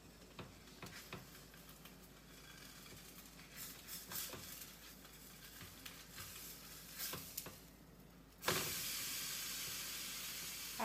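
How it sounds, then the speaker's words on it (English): A grilled cheese sandwich fries in butter in a pan, giving a faint sizzle with scattered small pops, then a much louder, steady hiss takes over for the last couple of seconds. "you can hear it sizzling. That means that the butter's cooking"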